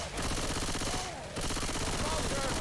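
Dense, continuous automatic gunfire from a multiplayer Left 4 Dead 2 match, a loud sustained rattle with one brief dip in the middle before the shooting resumes at full intensity.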